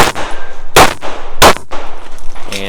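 Pistol shots on a practical shooting stage hitting steel targets, two sharp loud cracks about 0.7 seconds apart, with metallic clangs and ringing between them.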